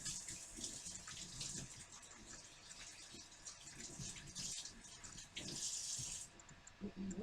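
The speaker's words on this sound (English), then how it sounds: "Wash my hands." Tap water running while hands are washed at a kitchen sink, a faint steady splashing stream with a person talking over it.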